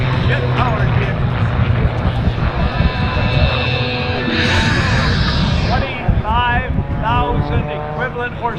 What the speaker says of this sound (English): Jet-powered truck.